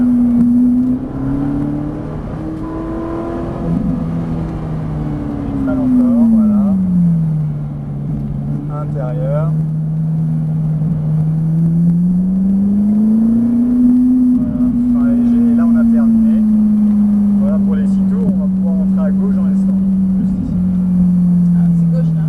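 A car on a race track whose engine note climbs and falls through braking, gear changes and hard acceleration, loud and close, with people talking over it.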